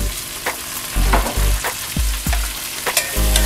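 Pork stir-frying in a pan for pancit canton, a loud close sizzle broken by repeated scraping and tossing strokes at an uneven rhythm.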